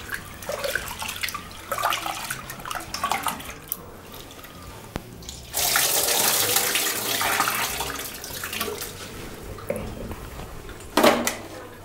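Water pours from a tap into a pressure cooker to rinse toor dal in a home kitchen, splashing in uneven bursts with a louder rush partway through and a short splash near the end.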